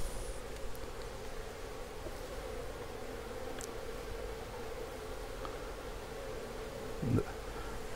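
Wild honey bees swarm around an opened hive as honeycomb is lifted out, giving a continuous, faint, even buzz with a brief rustle near the end.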